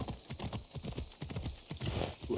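Horse hooves galloping in the Assassin's Creed Odyssey video game, a fast, steady run of close, punchy hoofbeats with no talk over them.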